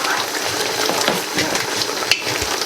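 Ox liver fries in a pan with a steady, close hiss and sizzle, plus faint stirring scrapes and one sharp clink.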